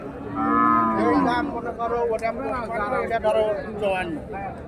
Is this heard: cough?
no